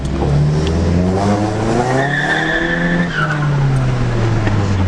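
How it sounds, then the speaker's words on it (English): Loud tire screeching wails over a roaring, revving Nissan 350Z engine with blow-off valve as the car drifts, the squeal rising and falling continuously. "couldn't tell what's tire screech and what's blow valve."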